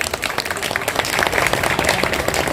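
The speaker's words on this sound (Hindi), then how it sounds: "एक बार जोरदार ताली बजा दो विनय भाई के लिए।" A crowd at a political rally for Vinay Chaudhary breaks into loud applause, dense and close clapping with a slight crowd murmur, building a little in the middle of the short burst.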